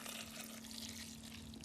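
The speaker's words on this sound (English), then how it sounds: "into this dish, I'm going to pour some red wine" Red wine pours from a vessel into a dish in a kitchen, a steady faint liquid trickle and splash running continuously without break or other sounds.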